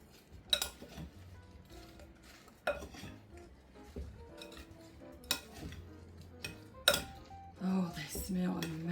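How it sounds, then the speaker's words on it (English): Roasted potatoes tossed in a crema sauce in a pan, with sharp clinks and scrapes of a utensil against metal cookware at irregular intervals, close up, and a soft busier stir of clatter toward the end. "Now that our potatoes are done, we're about to toss them in our crema."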